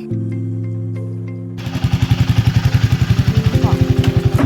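A Himalayan motorcycle on a misty road near Chinnakanal: a steady droning hum, then from about halfway through a loud, close engine beat of rapid, evenly spaced thumps that continue to the end.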